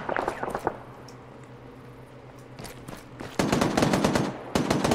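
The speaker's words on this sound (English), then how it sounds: "Where was that barrage coming from a second ago?" Gunfire in Arma 3 trades across a military battlefield: scattered early shots, a lull, then dense bursts of automatic fire swelling loud and sustained toward the end.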